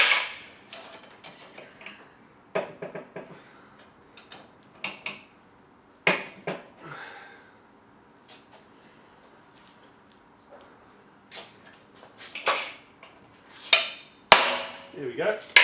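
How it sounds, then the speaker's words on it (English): Hammer blows strike a puller on the alternator of a Yamaha XV1000 motorcycle, landing as scattered sharp metallic knocks, some single and some in quick pairs, between stretches of quiet workshop noise. "Give it a belt with a hammer every now and then"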